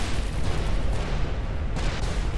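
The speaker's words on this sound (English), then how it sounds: "More explosions." Rumbling space-combat explosions from the video game Everspace 2, a dense continuous roar of booms and bursts with no speech over it.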